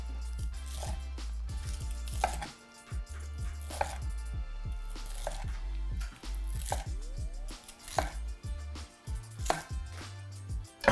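Knife slicing stuffed chicken breast with spinach and cheese on a cutting board, a steady series of sharp, close chops and taps at an even rhythm, with no talking.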